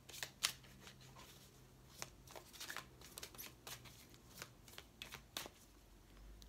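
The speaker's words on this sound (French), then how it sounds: "Allez, je les mélange." Oracle cards shuffled by hand, giving soft, quiet riffling and tapping clicks in an irregular rhythm, close up and with no talking.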